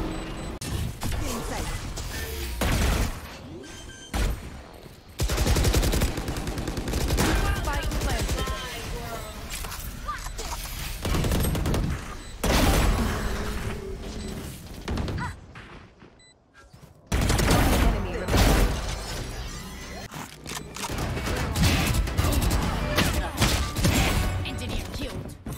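Phantom rifle strafe shooting in Valorant, with loud, dense bursts of automatic gunfire that start and stop in repeated volleys, mixed with game sounds and a few short gaps of quiet.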